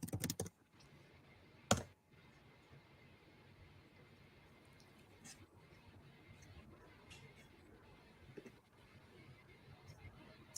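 Soft keystrokes patter on a computer keyboard in irregular bursts, faint and close, with one louder click near the start and quiet stretches between the typing.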